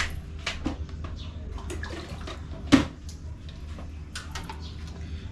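Water is scooped and poured from a container at a home in the Agusan Marsh, with quiet splashes and sloshing in separate bursts, close and soft, against faint background sound.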